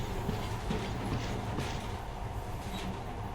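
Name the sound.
monorail train riding through tunnels, from video game Metro Last Light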